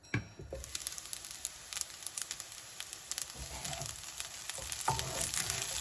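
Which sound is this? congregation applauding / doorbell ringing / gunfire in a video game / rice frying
rice frying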